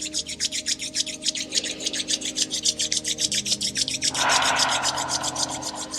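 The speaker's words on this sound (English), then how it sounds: "Bring the hands to touch and rub the hands, gently creating warmth" Hands rub together steadily to create warmth during a gentle prenatal exercise, a close, rhythmic rasping swish repeating several times per second that grows slightly fuller near the end, with quiet background music underneath.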